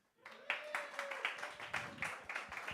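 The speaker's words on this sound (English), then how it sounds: "can I have a little bit of a warm applause for that great idea of having 3 sections?" A small live audience gives a brief round of applause, a few people clapping in uneven bursts at moderate volume, faint and fairly close.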